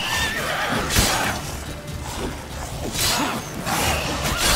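A horse in The Witcher 3 whinnies and snorts after being struck, several sharp cries rising over a steady game backdrop, with occasional whooshing swings.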